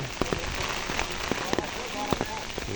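Heavy rain pattering on a surface with scattered sharp drips and taps, fairly close, a faint voice mixed in now and then.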